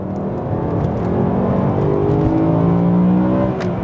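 A BMW E92 M3's naturally aspirated V8 revs from inside the car, its engine tone climbing steadily in pitch and loudness as it pulls toward high RPM, with no talk over it.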